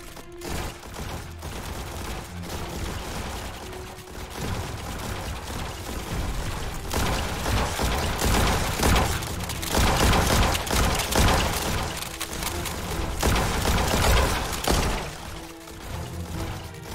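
Gunfire rattles in the video game Ancient Warfare 3 as an army-men battle plays out in dense, continuous volleys with booms, swelling louder through the middle and fading at the end.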